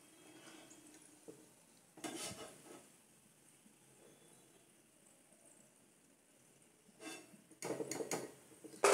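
Crispy fried sev dropped onto a plate gives a few sharp crackling rustles, a brief one early and a louder cluster near the end, with faint kitchen sounds between them.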